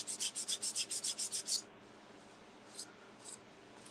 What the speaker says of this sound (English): you can take a little piece of sandpaper or your little gator